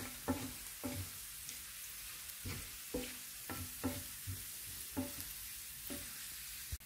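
Chopped garlic and half a teaspoon of mustard seeds fry in hot oil, a steady broadband sizzle with repeated soft stirring knocks roughly every half second, close and alone without talk.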